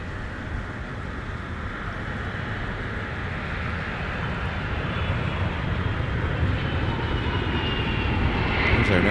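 A Delta airliner on arrival at MSP airport roars steadily and broadband close by, the engine noise slowly building louder across the whole stretch with no voices over it.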